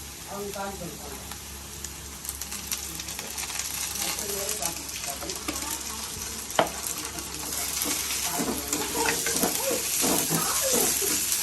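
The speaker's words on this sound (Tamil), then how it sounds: "இஞ்சி பூண்டு நல்லா பச்சை வாசனை போகிற வரைக்கும் வதங்கணும்" Onions with ginger garlic paste sautéing in a pan for a mutton gravy, a continuous close sizzle with stirring scrapes and one sharp metallic tap midway, under a faint voice.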